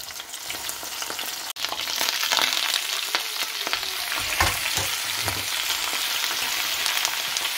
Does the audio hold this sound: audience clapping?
no